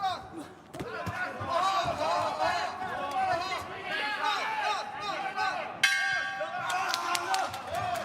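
A boxing bell ends the round of a men's 69 kg bout at the Kielce 2021 boxing tournament, ringing once near the end over steady commentary and arena crowd noise.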